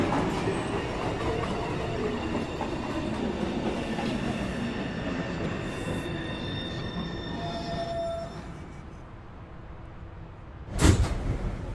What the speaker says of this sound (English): Train 2. approaching the station, please stand away from the platform edge.